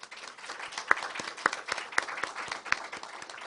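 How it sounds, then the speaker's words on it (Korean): A forum audience applauds in honour of a respected speaker, a moderate round of clapping with a few distinct, sharper claps standing out from the steady patter. "우리 선생님을 다시 한번 감사히 여기는 마음으로 존경의 박수를 올리도록 하겠습니다."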